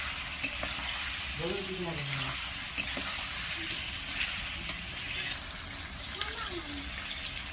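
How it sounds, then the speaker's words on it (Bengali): Pointed gourd curry with fried sesame stirred in a pan, a constant soft sizzle with occasional utensil taps, while a voice talks faintly in the background. "এরকম বন্ধুরা আর একটু নেড়ে চেড়ে আমি নামিয়ে দেবো"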